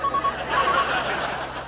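A telephone rings with short, faint electronic bursts in an indoor comedy sketch scene, partly buried under broadband background noise.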